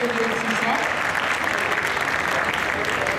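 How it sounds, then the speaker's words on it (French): Audience applause rings out for the second-place finisher at a fighting-game tournament finale, a steady wash of clapping from a crowd, with voices faintly mixed in. "applaudissement deuxième"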